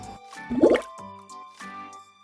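Air bubbles rising from a red ant crab breathing underwater, a few soft wet bubbling plops with one louder burst in the middle, close and quiet, no talk.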